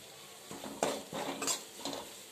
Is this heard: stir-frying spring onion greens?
yes